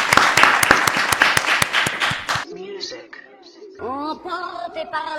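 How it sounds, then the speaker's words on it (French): Studio audience applauds a guest named Wendy on a French TV talk show set, a dense burst of clapping for about two seconds that cuts off abruptly and gives way to a voice and music. "Allez, on l'applaudit bien fort, s'il vous plaît, sur le plateau d'On va faire le show."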